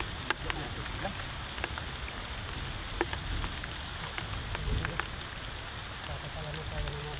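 Steady heavy downpour, a continuous close rush of rain spattering on a surface, broken by a few louder individual drop hits.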